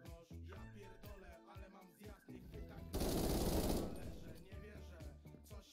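Automatic gunfire in the browser shooter Krunker, a loud, rapid burst lasting under a second near the middle, amid game sound effects and a player talking before and after.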